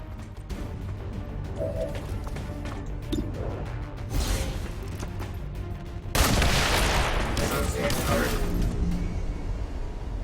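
Sniper rifle gunfire in the video game XCOM 2 during a landed UFO mission, heard as loud bursts and a sustained crash of shots over game music and effects, with the sharpest, fullest blast arriving late in the clip.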